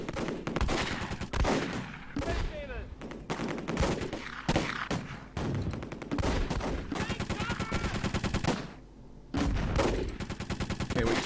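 Battlefield gunfire among the hedgerows in the Close Combat strategy game: loud, repeated bursts of rapid machine-gun fire and shots, with short pauses between volleys.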